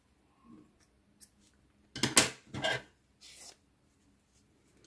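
A few quick scissor snips cutting yarn while finishing a crocheted Minnie amigurumi keychain, with two or three close, crisp cuts in a row and a lighter snip after, in a quiet room.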